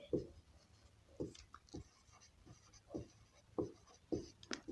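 Pen or pencil writing by hand on paper while working a math problem: soft rhythmic scratching strokes in short bursts, close and quiet, with no speech.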